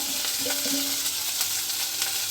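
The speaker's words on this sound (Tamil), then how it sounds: "லைட்டாக ஒரு கரண்டியை வச்சு இப்படி வதக்கிக்குவோம்" Vegetables for baby biryani being sautéed with a ladle in a pan, a dense steady sizzle up close with faint scraping taps from the ladle.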